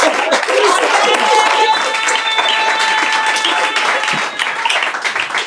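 A church congregation loudly applauds and cheers the Lord, dense close clapping mixed with crowd voices and shouts over a sustained keyboard chord, holding strong for several seconds.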